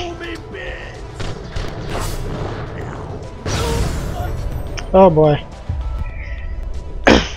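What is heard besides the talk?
explosion in the video game Borderlands: The Pre-Sequel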